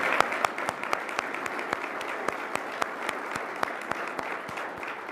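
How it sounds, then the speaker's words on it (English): An audience at a speaking event gives steady, even applause, many hands clapping together at moderate loudness for several seconds. "That, I think, deserves an applause."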